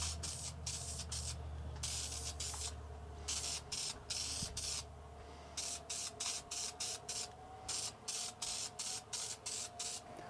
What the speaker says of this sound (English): then I'll give the whole thing a couple of coats of spray-on lacquer